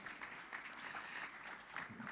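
An audience applauds steadily at a Spanish-language conference talk, welcoming the moderator and speaker, the clapping faint and distant, continuous for the whole stretch.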